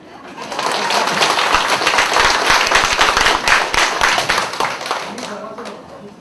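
A lecture audience claps, the applause swelling quickly into a dense, even burst of many hands close by, holding for several seconds before tapering off.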